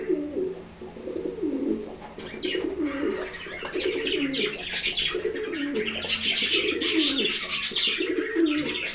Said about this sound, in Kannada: ಇದು ಲವ್ ಬರ್ಡ್ಸು ಫ್ರೆಂಡ್ಸ್, ಕೂಗಾಡ್ತಿರೋದು